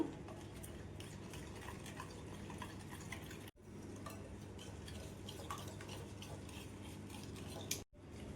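Gram flour and ghee stirred together in a vessel for Mysore pak, a continuous close scraping and clinking of a spoon against the pan, briefly interrupted twice, with no one speaking.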